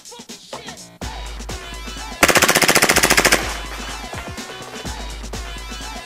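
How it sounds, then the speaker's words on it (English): A WE Glock 18c Gen3 gas airsoft pistol firing on full auto, loosing one very rapid burst of closely packed, loud, sharp pops, with scattered clicks and handling noise before and after. "we're going to swap it over to full auto and see what she does with the rounds per second"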